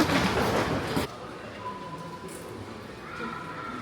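A metro train rushes loudly through a subway station for about a second, then the sound drops to a quieter station hum with faint tonal whines.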